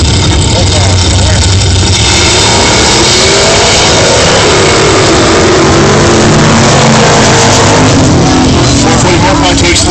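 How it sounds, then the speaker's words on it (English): A purple 440 Magnum Mopar and a Chevy Nova 396, both on slicks, roar down a drag strip. Loud, sustained big-block engine noise fills the whole stretch, with a voice talking underneath. "440 Magnum purple versus a Chevy Nova 396"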